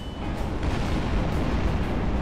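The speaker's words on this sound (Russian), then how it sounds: "Ой, они в небе начали взрываться" Bombs bursting in the sky in Garry's Mod, a heavy continuous rumbling roar of explosions, loud and unbroken across the whole stretch.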